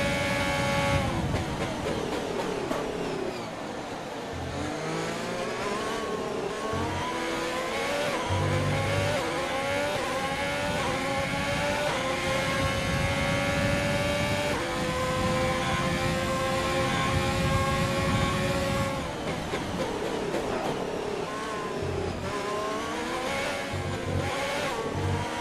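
Formula 1 race car engine in a racing video game, a loud high-pitched whine climbing and dropping through gear changes, sustained revving with brief downshifts as the car laps the track.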